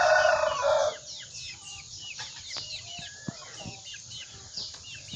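A rooster crows loudly at the start, then Chinese breed hens cluck and chatter softly in scattered bursts close by in a yard.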